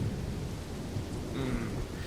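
Rain falling with a low rumble of thunder in the VRChat game world, a steady soft wash of rainfall under a deep, distant roll that stays fairly quiet throughout.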